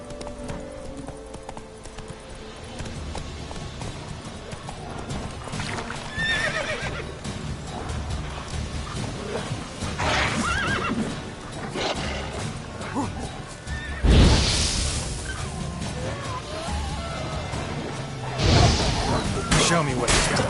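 Roach, a horse in The Witcher 3 video game, gallops with steady clip-clopping hooves and lets out loud neighs, mixed with game effects and music.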